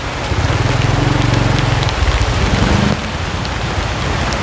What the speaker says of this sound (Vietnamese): Tự nhiên trời đổ mưa. Mưa lớn quá.